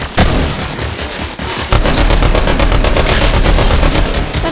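Rapid loud gunfire from a Fortnite match, dense bursts and shots running continuously with a heavy low rumble through the whole stretch, no talk over it.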